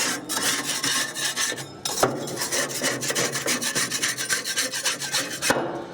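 Steady harsh rasping scrape as parts of a Weber Genesis BBQ grill are scraped clean, continuous rhythmic strokes close up and loud, briefly pausing once, with no voices.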